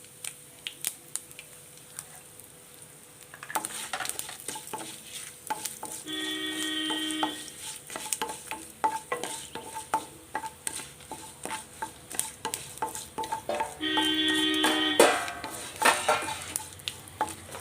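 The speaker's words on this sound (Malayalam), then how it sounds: "മൂന്ന് വറ്റൽ മുളക് മുറിച്ചതും കൂടി ഇട്ട് കൊടുക്കാം" Cut dried red chillies and lentils frying in hot oil in a pan, with a soft steady sizzle broken by frequent metallic clinks and scrapes of a spoon stirring, plus a couple of brief electronic tone bursts.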